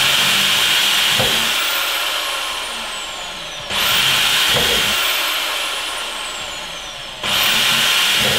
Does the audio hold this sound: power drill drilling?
yes